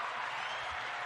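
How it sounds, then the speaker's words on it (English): Audience applause for a comedian: a short, dense burst of steady clapping from a crowd, fairly close, with no talk. "Stop the applause"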